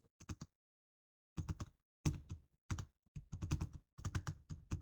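Keys clack on a computer keyboard in short bursts of typing with brief pauses between, close and fairly quiet in an otherwise silent room.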